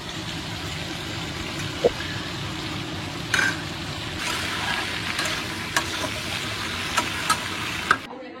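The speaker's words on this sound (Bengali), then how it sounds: "পেঁয়াজটা ভেজে নিচ্ছি" Onions fry in a pan with a steady hiss, broken by occasional clinks of a spatula against the pan.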